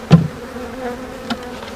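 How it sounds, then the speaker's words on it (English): A honeybee swarm hums steadily around a swarm trap, a close, sustained buzz with a couple of sharper bumps of individual bees passing near, no voices over it. "There's a ton of bees on the swarm trap lid"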